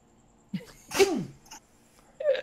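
A single sharp sneeze bursts out, preceded by a quick inhale, followed by a brief quieter sound and another short exhale.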